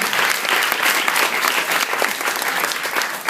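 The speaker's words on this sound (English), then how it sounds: "So, give her a round of applause." Dense, continuous applause from an audience at an award presentation fills the whole stretch, loud and close, with no voices over it.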